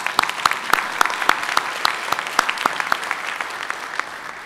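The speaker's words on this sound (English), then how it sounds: "Could I please ask you all to give them a round of applause?" Attendees at an IETF administrative plenary applaud, a moderately dense patter with several sharp, close individual claps standing out over the steady rattle.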